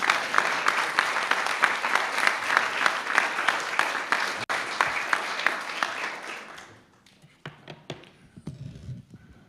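A large luncheon audience at the National Press Club applauds warmly for David Gergen, dense steady clapping that fades out after about seven seconds, leaving scattered claps and room noise.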